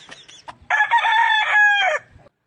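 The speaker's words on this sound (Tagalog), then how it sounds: "Tumilaok na naman." A rooster crows once, loud and close, with a long drawn-out call lasting over a second, preceded by a few short clucks and soft background noise.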